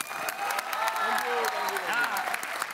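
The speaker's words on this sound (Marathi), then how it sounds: "जोरदार टाळ्या झाल्या पाहिजे सरांसाठी एकदा." A studio audience at a Marathi TV comedy show breaks into loud, dense applause that holds steady for a few seconds, with a voice faintly audible underneath.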